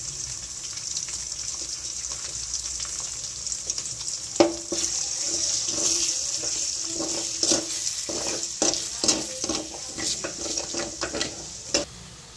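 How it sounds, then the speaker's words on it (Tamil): Beaten eggs fry in a little oil in a kadai, giving a constant bright sizzle with a burst as they hit the hot oil and then a series of scraping, clattering stirs against the pan. "ஏற்கனவே சிக்கனை வறுத்த அதே கடாயில் சிறிதளவு எண்ணெய் ஊற்றி உடைத்து வைத்த முட்டைகளை அதில் ஊற்றிக்கலாம்"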